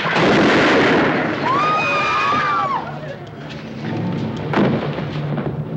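A gunshot in a 1965 western film: a loud, booming blast that rolls into a long, rumbling decay, with faint tonal sounds and voices in the mix.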